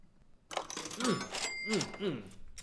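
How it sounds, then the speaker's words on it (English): A cash register sound effect rings out with bright chiming bell tones and a coin-like jingle, repeated in a few quick bursts, close and clear over a voice. "Love that sound of the nice cash register."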